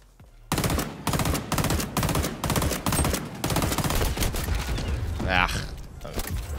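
M16 rifle fire in the shooter game XDefiant comes as rapid, sharp bursts up close, loud and fairly continuous, with a mechanical clatter near the end.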